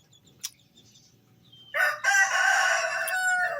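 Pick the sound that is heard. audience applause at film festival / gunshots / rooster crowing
rooster crowing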